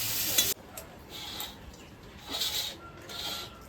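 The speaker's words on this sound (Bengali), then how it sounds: "চেলা মাছ দিয়ে বেগুন রান্না করব" Eggplant curry with small chela fish cooking in a pan, giving a soft sizzle with scraping stir strokes that come in brief bursts, near and moderately quiet, with no talking.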